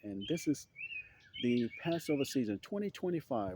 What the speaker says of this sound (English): as we hear the birds singing